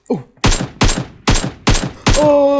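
A powerful gun fires in the video game PUBG Mobile: five loud, close single shots at roughly even half-second intervals, each with a sharp crack and short decay, followed by a ringing tone.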